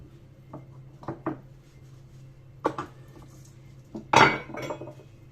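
Clinks and knocks of dishes and glassware being washed, a few soft taps followed by a louder clatter, with a steady low hum underneath and no talking.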